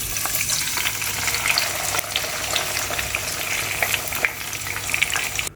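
Mustard-green saag sizzles in a pan with a desi ghee tempering. A continuous hiss of frying runs under scattered stirring clicks, then cuts off abruptly at the end.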